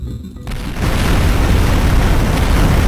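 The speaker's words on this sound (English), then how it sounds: "They create giant explosions, basically." A pipe bomb detonates in a video game, a loud booming blast that swells after a brief quieter moment and then roars on as a sustained, rumbling explosion filling the rest of the clip.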